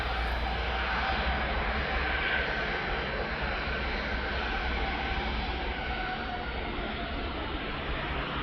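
A Jet2.com airliner at East Midlands Airport gives off a steady, broad engine roar that holds even and loud throughout, with no voices.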